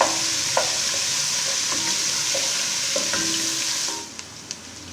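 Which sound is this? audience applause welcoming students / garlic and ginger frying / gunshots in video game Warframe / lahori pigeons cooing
garlic and ginger frying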